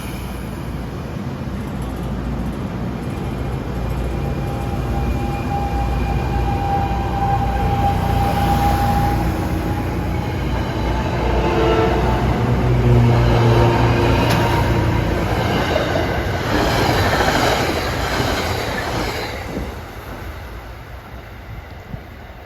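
NJ Transit train 432, a Gladstone-to-Hoboken service, rumbling steadily through Mountain Station for over twenty seconds, with continuous wheel and engine noise building toward the middle and easing near the end.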